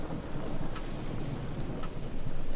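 Steady rain with a thunder rumble during an electrical storm in a video game, a continuous loud wash of rainfall with brief sharper crackles, no talking.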